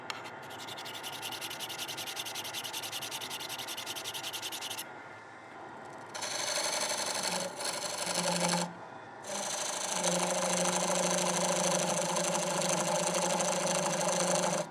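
A woodturning tool being lightly honed on a flat sharpening surface, giving steady rasping, rubbing strokes that run close and loud, with a brief pause partway through before the scraping resumes and continues to the end.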